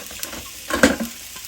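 Sausages fry in a pan with a soft, faint sizzle, broken by a brief louder clatter of stirring or handling near the middle.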